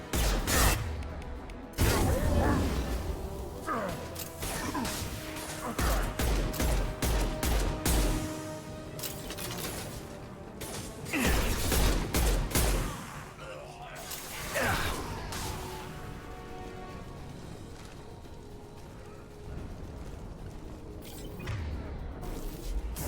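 Gunfire in the sci-fi shooter Mass Effect 2: repeated sharp bursts and impacts scattered across the scene, loud and close, with whooshes and mechanical clatter in between and a voice talking over the action.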